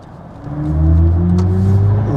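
A steady synthetic hum rises in pitch as a BMW i4 M50 accelerates into the fast lane, layered tones swelling and holding strong over low road rumble, no talking.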